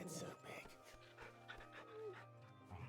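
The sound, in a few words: dog panting in Final Fantasy 16 video game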